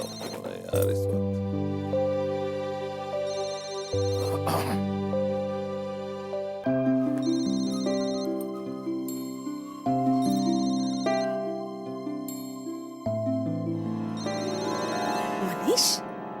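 A mobile phone ringtone repeats its melodic electronic tune in several loud, close cycles, with brief bursts of other noise between phrases.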